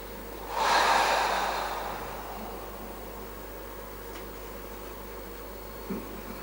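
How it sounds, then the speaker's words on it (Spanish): A single deep breath taken during a breathing exercise at an emotional-freedom seminar: one loud, airy inhale lasting about a second that tapers off, followed by quiet and a faint soft sound near the end. "Cogemos esa respiración."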